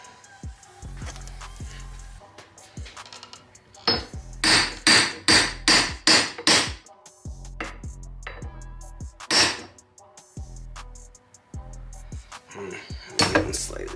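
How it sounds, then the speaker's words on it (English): A hammer drives a socket against an old Honda's wheel hub to knock it out, sharp metallic strikes coming in quick bursts, with one fast run of about six blows in the middle, close and loud with pauses between. "So I'm going to go ahead and pound out the hub"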